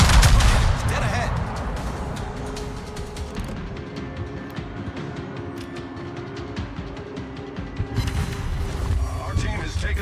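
Warship gun salvos in World of Warships, a loud burst of firing at the start fading into distant thuds and rumbling water ambience, with another salvo rising near the end and a voice talking over it.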